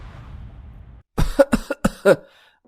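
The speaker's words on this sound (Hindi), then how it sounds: "घर में आते ही खांसने लगता है" A cartoon man coughing from smoke at home: a short burst of four or five harsh, close coughs in quick succession after a brief quiet moment.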